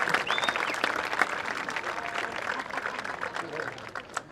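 A commencement crowd applauds and cheers for the graduates' parents, a dense, steady wash of clapping with scattered whoops and voices mixed in, holding strong before easing slightly near the end.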